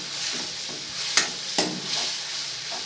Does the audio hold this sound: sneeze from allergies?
no